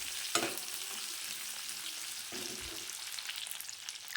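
Salted lemon pieces fry in a pan, giving a soft, steady sizzle with a couple of sharper spits and stirring scrapes, close and fairly quiet.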